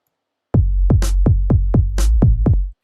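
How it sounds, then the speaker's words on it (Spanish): Dry, unreverberated snare drum in a mix, struck six times in a steady rhythm alongside low tonal content, each hit short and punchy with no tail, close and loud. "la caja suena tan seca que es como que el cerebro ya empieza a percibir"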